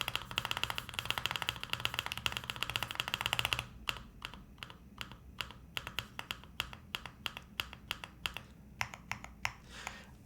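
Typing on a LuminKey75 pre-built mechanical keyboard with pre-lubed stabilizers: a dense, fast clatter of keystrokes at first, then slower separate clacks and taps close up, with no talking.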